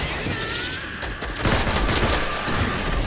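Gunfire in a shooting video game: a rapid burst of loud shots crackles across the clip, growing heavier and denser in the second half.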